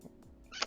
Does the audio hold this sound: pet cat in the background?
yes